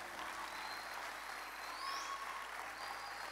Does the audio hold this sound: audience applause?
yes